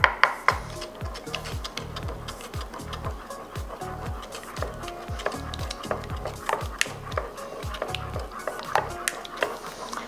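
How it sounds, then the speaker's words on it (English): Eggs are broken up and stirred into batter in a bowl for an apple pumpkin crisp, heard as a rhythmic series of close scraping, thudding strokes with light clinks of utensil against the bowl. "I'm going to break these eggs up just a little bit and stir them in."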